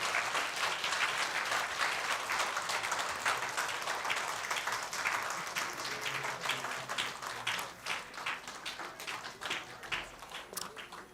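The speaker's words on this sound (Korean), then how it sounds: "여러분들 박수로 큰 축복해 주시기를 바랍니다." A church congregation applauds at a Christmas baptism service: a dense, sustained round of clapping from many people that keeps going for about eleven seconds and thins slightly toward the end.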